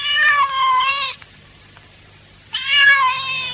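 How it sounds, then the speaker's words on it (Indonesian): A cat meows twice in a radio drama scene, two drawn-out, clear cries separated by a short quiet pause, close and prominent with no talk over them. "Itu dia kucing tadi."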